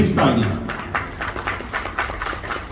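Audience clapping at a party nomination event, a loose patter of hand claps following a short spoken line.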